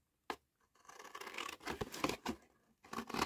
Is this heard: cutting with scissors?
yes